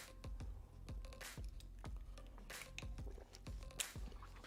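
Close, quiet mouth sounds picked up by a sensitive microphone: a sip of water followed by a rapid series of soft wet smacks and clicks, with no talking.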